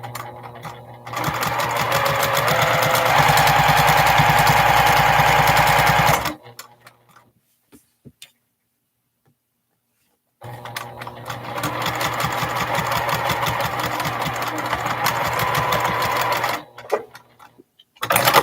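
A sewing machine stitches a quilt block seam at a quarter-inch allowance, running loud and steady for several seconds, pausing briefly, then running again at length.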